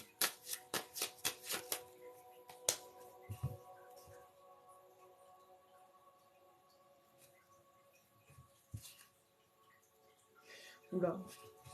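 Tarot cards are shuffled and cut by hand, a quick run of crisp riffling taps at the start, then scattered soft card slaps and a later flutter, with a voice speaking quietly.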